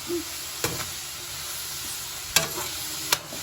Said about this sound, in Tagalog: Halu-haluin. Haluin lang hanggang mag-brown. Magkulay golden brown.